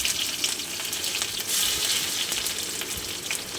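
Sliced onion frying in hot oil with cinnamon, cardamom, bay leaf and a torn dried chili makes a loud, dense, continuous sizzle up close, with a few stirring scrapes.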